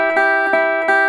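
Lap steel guitar strings plucked repeatedly without pick blocking, steady sustained notes ringing into one another as three soft attacks land on top of the lingering tone, close and clear with no talking.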